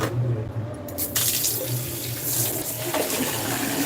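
Tap water running steadily into a sink while a copper vessel is washed, a close continuous splash with brief shifts as the vessel moves under the stream.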